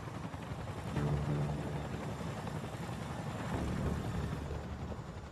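A refitted RAF Chinook helicopter gives a steady low rumbling drone with a faint rhythmic rotor throb, heard at a moderate distance with no talking.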